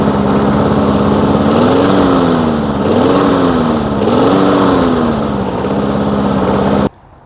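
A Poulan Pro self-propelled lawn mower engine runs loud and close, a steady mid-pitched drone with slight waves in speed, then cuts off abruptly near the end.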